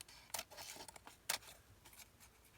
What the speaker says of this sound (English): then we'll cut our edges so it's all clean